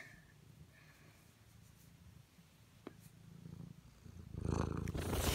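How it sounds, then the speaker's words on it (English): A cat purrs close by in a soft, steady low rumble, with rustling and handling noise swelling near the end. "Where's that purr?"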